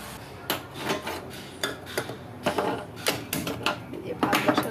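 A pot of rice is set onto a kitchen stove amid metallic clanks, lid rattles and utensil knocks in an irregular series, close by, with someone talking through the sounds.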